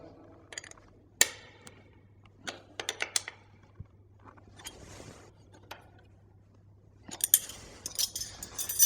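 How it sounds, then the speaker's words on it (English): Lock-off nuts on a motocross bike's rear axle being tightened, giving sparse, close metallic clicks and light scrapes at irregular intervals, with a denser burst of clinking toward the end. "Tighten the lock-off nuts."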